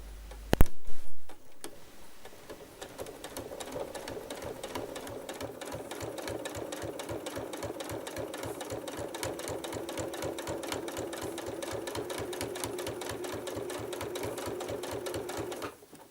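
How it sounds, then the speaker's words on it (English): Sewing machine running steadily, stitching a binding strip onto an art quilt, a fast even mechanical ticking that goes on for about fourteen seconds after a brief sharp knock at the start, close by and with no talk. "Sew another round close to the seam on the binding strip so that the binding is attached to the seam allowance of the quilt."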